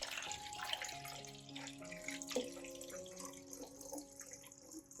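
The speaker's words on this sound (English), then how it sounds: "pour this water into a spray bottle" Water pours and splashes steadily into a spray bottle, fairly quiet, with faint tonal ringing as it fills and no voices.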